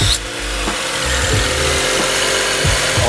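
A BMW N54 engine running rough with the charge pipe disconnected, a loud, close, continuous engine noise with irregular popping and sputtering pulses through it.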